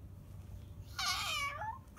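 A young child imitates a cat with a single drawn-out meow, close and fairly loud, rising then falling over about half a second against quiet indoor background noise.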